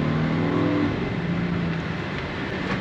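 A 2021 Volkswagen Atlas SEL accelerates, its engine heard from inside the cabin as a steady, loud rising drone with road noise, easing slightly toward the end.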